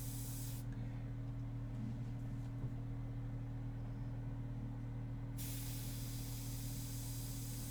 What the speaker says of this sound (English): that's the control that you get with this airbrush